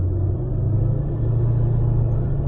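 A Maserati 3200GT engine running at full throttle on a dyno, a loud, steady, deep rumbling roar held evenly and close throughout, with no talking.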